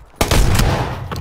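A single sharp gunshot in PlayerUnknown's Battlegrounds cracks loudly, followed by a second shot moments later, with a brief echoing tail between them.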